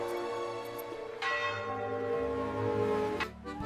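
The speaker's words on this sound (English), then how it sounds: "Church bells rang across the sea." Church bells ring out in a short peal with bright overlapping strikes that swell and fade, clear and fairly close, with no voices.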